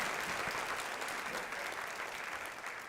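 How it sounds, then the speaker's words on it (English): Audience applause at an awards dinner, a fairly faint but continuous patter of many hands that tapers gently over a few seconds. "let's give Akiva a round of applause for a wonderful job"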